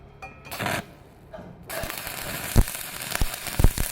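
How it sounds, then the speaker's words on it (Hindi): Arc welding with the electrode holder held at the proper height, giving a steady crackling sizzle with a few sharp pops, preceded by brief louder bursts. "अगर एकदम प्रॉपर वेल्डिंग हुआ तो कैसे साउंड आएगा, देखो"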